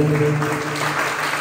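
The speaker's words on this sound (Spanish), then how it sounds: "por favor, un aplauso" Concert audience in a school hall bursts into loud, continuous applause, a brief close burst of clapping with a faint musical tone underneath.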